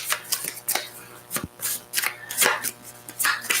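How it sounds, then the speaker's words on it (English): A deck of oracle cards is shuffled by hand up close, making repeated quick riffling and snapping bursts in an uneven rhythm. "Shuffle card, please."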